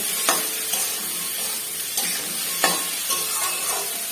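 Okra (bhendi) frying in a little oil with salt added, a steady close sizzle broken by a few scraping stirs of a spatula in the pan, no voices.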